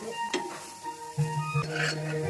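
Food being stirred in a cooking pan: a few scraping strokes and light clinks of the utensil against the pan over a soft sizzle, fairly quiet and close, with no talking.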